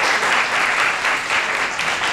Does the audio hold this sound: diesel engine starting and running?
no